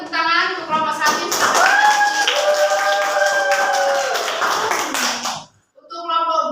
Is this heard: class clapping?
yes